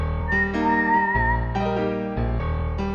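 Electronic keyboard plays a melody on a whistle voice over a piano-style accompaniment, a bright sustained whistling line above steady chords and bass notes, played alone and clearly.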